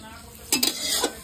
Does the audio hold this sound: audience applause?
no